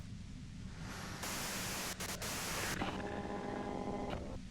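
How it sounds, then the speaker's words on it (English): White noise static in a video game hisses continuously and fairly quietly, with a louder burst in the middle, a couple of brief dropouts, and faint tonal hum lines entering toward the end. "you can do it through the white noise."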